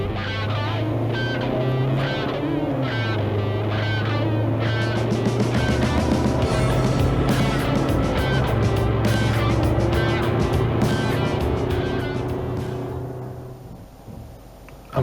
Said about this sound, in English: now I take it on a 10-minute ride up the highway